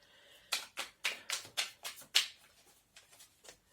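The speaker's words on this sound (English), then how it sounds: "give it a couple more shuffles and then I'll leave it alone" Tarot cards shuffled by hand in a quiet room, a quick run of about seven sharp riffling snaps followed by softer, fading card slides.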